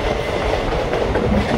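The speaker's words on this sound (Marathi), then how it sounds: "आता आम्ही माहीम जंक्शन पण क्रॉस करत आहोत" A Mumbai local train rumbles through Mahim junction, wheels clattering steadily over the track joints in a close, continuous rolling din with no talk.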